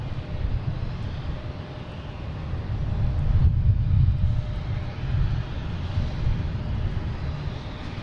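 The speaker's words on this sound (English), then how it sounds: "Next coming in is a Delta A330-900 coming in from Madrid." Delta Airbus A330-900 airliner inbound from Madrid on approach to Boston Logan, a steady broad engine roar that swells slightly mid-way, heard from a distance with no talk over it.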